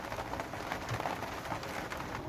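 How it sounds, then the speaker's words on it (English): Heavy rain falls steadily outdoors by a garden greenhouse, a dense, even wash of drops pattering on surfaces with no break in intensity and no voices. "the rain is still heavy"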